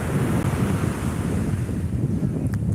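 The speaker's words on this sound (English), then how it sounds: "the waves were getting more intense" Storm-churned ocean surf washing up across a sandy beach, a steady, loud broadband roar with constant low rumble and heavy wind buffeting the microphone, no voices.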